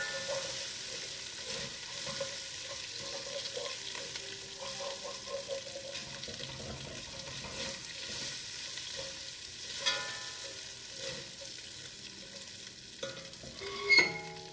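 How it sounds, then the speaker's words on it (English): Bacon frying in a pan while making mac and cheese, a soft continuous sizzle with occasional stirring and scraping sounds, fairly quiet and steady, ending with a brief louder clatter. "Bacon's starting to get crispy."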